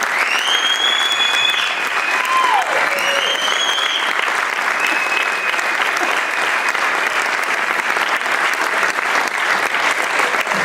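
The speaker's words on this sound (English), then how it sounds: "So if you would give them all a round of applause" An audience gives a sustained round of applause for a community concert band, loud and even throughout, with a few whoops and whistles rising above the clapping.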